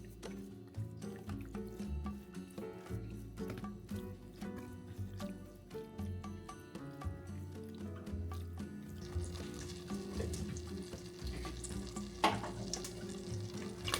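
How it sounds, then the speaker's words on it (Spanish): Garlic fries in oil and butter in a pan, a busy crackle and sizzle with clinking and stirring noises throughout, growing into a steadier, denser hiss in the second half. "al final le voy a poner un poquito de aceite para que se sofría un poquito mejor en el sartén"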